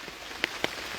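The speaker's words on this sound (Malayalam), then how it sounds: "നല്ല മഴയാ കേട്ടോ ഇന്ന്." Rain falls in a soft, continuous hiss, with a couple of sharper individual drops ticking out near the middle and end of the brief stretch.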